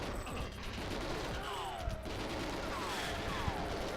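Tap-fired gunshots in GoldenEye 007, short bursts cracking in quick succession over a dense game soundscape, moderately loud with no clear break between volleys.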